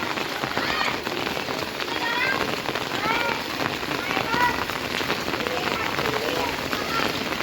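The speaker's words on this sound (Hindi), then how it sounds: "किस किस के यहाँ ऐसी बारिश हो रही है" Heavy rain pours down steadily on a flooded street, a dense hiss of drops pattering on hard surfaces, with faint voices in the background.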